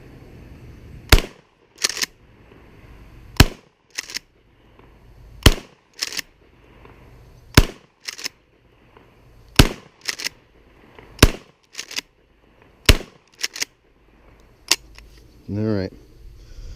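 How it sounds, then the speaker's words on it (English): A Mossberg 500 12-gauge shotgun loaded with Fiocchi 00 buckshot fires about a dozen sharp, loud blasts at irregular intervals of one to two seconds, with shell handling and faint background noise between shots. "the 12 gauge back out, Mossberg 500, and I have it loaded up with double-aught buck, some Fiocchi"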